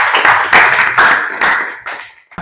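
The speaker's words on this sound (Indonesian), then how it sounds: "beri tepuk tangan yang sudah menjawab" A short burst of loud applause from a crowd, several waves of clapping that fade away and stop abruptly near the end.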